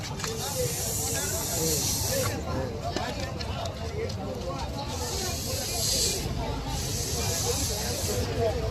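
Sketch ink sprayed from a blow pen over a stencil design, a steady close hiss running throughout with brief gaps, under a busy background of voices.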